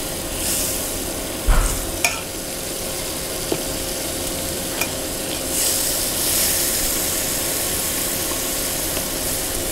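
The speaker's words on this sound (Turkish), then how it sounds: "Yağımızı erittik, tereyağımızı. Çok hafif kısık ateşte yapacağız." Butter melting and sizzling in a pan over very low heat, a soft continuous frying hiss that swells slightly midway, with a few faint clinks and a small knock near the start.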